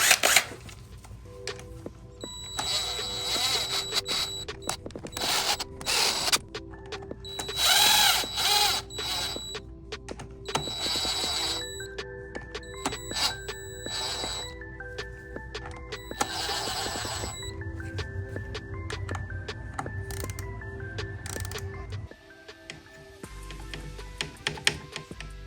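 Power tool work on motorcycle clutch bolts during a clutch replacement: busy whirring and clicking mechanical bursts repeat over about 25 seconds, close and fairly loud, with no talking.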